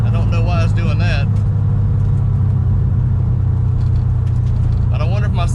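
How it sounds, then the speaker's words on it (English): A 1968 Dodge Charger's Hemi engine, paired with a NAG1 transmission, drones in a loud, steady low rumble, seemingly stuck against a rev limiter near 3,400–3,500 rpm, with voices talking over it. "Feels like it's hitting a rev limiter."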